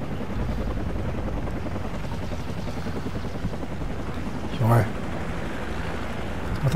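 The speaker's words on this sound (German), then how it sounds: "jetzt kommt ein scheiß Helikopter noch" Helicopter in the video game Call of Duty 4 Modern Warfare, a continuous rotor thrum that stays steady and moderately loud, with a brief sharp burst near the end.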